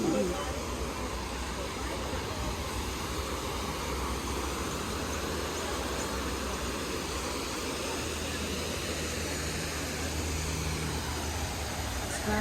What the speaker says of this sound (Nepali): यो साँच्चीको झर्ना हो कि बनाएको झर्ना हो?